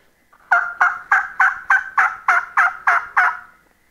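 A wild turkey diaphragm call imitates a hen's yelping: ten quick, evenly spaced, raspy notes, clear and close against silence.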